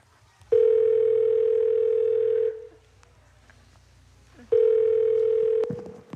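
Telephone ringback tone while calling a friend, two long steady buzzing tones each about two seconds, separated by a silent gap, loud and close.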